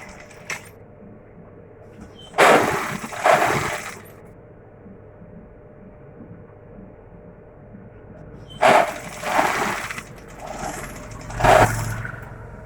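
A sewing machine stitches a seam on a flared sleeveless dress in two loud bursts of a few seconds each, separated by a long quiet pause with soft handling noise.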